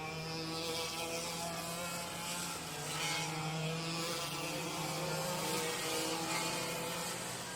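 Racing karts circle a wet track, their engines a steady, fairly distant buzzing drone that rises and falls slightly without pause.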